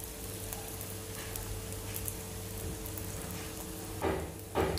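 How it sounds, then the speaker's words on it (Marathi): A slice of bread frying in oil in a pan on the stove gives a steady faint sizzle with a low hum beneath, then a couple of brief louder crackles near the end. "तेल टाकल्यानंतर हा जो ब्रेड आहे, हे जे ब्रेड आहे तो आपल्याला यावर टाकायचा आहे"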